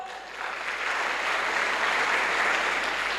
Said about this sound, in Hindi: मेरे सिस्टम के लिए भी ताली होनी चाहिए दोस्तों